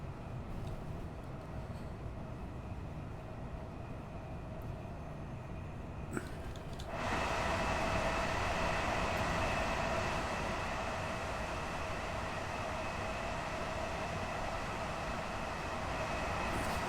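A Class 387 electric train in Train Sim World 4 climbing an uphill stretch, its steady running hum and rumble stepping up sharply in loudness partway through as more power is applied, continuous and close, with no talking.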